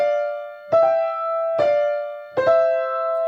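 Three piano double thirds struck slowly, each pair of notes landing slightly apart and ringing on between strikes.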